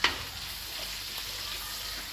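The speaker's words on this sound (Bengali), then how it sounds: "হালকা একটু লালচে করে ভেজে নিয়েছি" Onion, garlic and slit green chillies with a pinch of salt fry in oil, a constant close sizzle that opens with a sharp clink and continues with gentle stirring, no talking.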